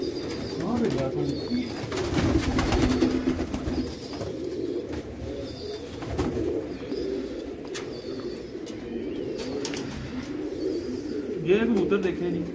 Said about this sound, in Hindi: ये कबूतर देखे नहीं